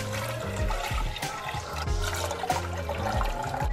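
Water poured into a pan while making churros, a steady splashing, gurgling flow with some clattering bumps, moderately close and continuous with no talk.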